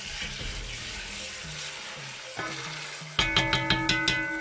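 Jollof rice ingredients sizzle and fry steadily in a pan, joined near the end by a run of clinking taps from a utensil.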